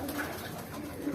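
Pigeons feeding outdoors give soft low cooing calls, a gentle repeated coo heard close and fairly quiet against a faint background hum.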